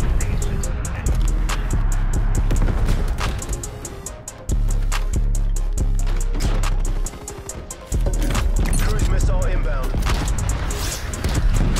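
AK-47 bursts in Call of Duty Black Ops Cold War crack in rapid repeated volleys amid game music and effects, loud and close, with a player talking over the shooting.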